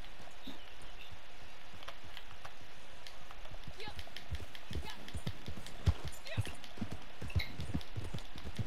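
A horse's hooves clip-clop steadily and faintly across the ground in the video game Red Dead Redemption 2, a run of soft, even thuds.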